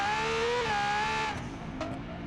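A high-pitched Lego-styled race car engine in BeamNG.drive whines steadily, then drops in pitch, with a brief tire screech near the end; loud and close, no talking.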